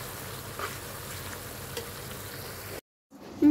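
Onions fry for beresta with a dense, even sizzle and a couple of soft stirring scrapes, close and steady before a sudden brief cut near the end.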